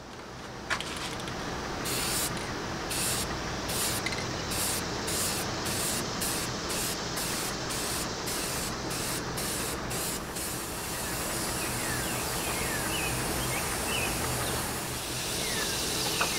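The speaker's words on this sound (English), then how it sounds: "there's a lot of overspray with this Rust-Oleum" Rust-Oleum spray paint hisses steadily from an aerosol can in several quick bursts followed by a longer continuous spray, close and fairly loud, with no talking.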